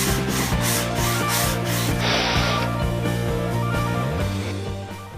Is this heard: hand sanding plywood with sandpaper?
yes